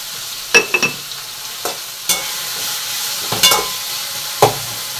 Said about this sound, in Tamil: உப்பு போடையில் உங்களுக்கு தக்காளி வந்து சீக்கிரம் வதங்கும்